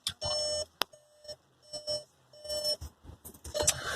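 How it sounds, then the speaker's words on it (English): A series of sharp electronic beeps from a 2014 Volkswagen Jetta SportWagen diesel's warning buzzer at startup sounds at a steady, insistent pace, loud and close, with no voices. "Kind of a dire buzzer there."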